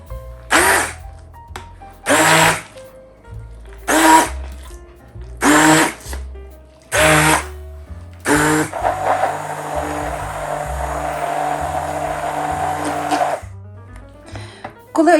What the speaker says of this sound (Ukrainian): змішую все занурювальним блендером до однорідної консистенції